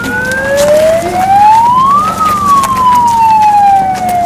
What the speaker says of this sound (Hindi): और यहाँ पर अभी एम्बुलेंस भी आ चुकी है।